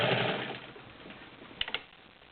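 A vintage Kenmore 1751 sewing machine with a size 16 needle runs through five layers of denim, a steady close motor whir that tapers off, with a couple of brief mechanical clicks near the end as the pedal is released.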